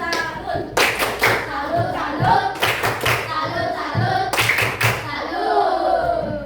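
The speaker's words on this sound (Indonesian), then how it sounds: "Ayo tepuk salut untuk kita semua." A class of fourth-grade pupils performs the 'tepuk salut' rhythmic clap, three loud bursts of clapping and hand taps spaced a couple of seconds apart, with children's voices chanting and talking throughout.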